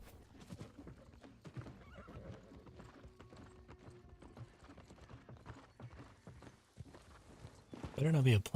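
A horse in the video game New World clip-clops steadily along at a walk, hoof beats repeating under a voice, then neighs loudly near the end.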